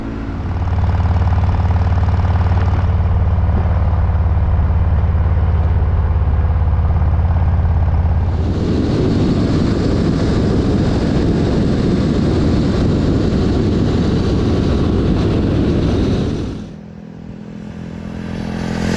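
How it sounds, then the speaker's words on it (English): Triumph Speed 400 single-cylinder motorcycle engine while riding, a steady loud low drone that swells into a rougher, wind-heavy roar midway before easing off near the end, with no talking. "It is a ridiculously fun motorcycle to ride."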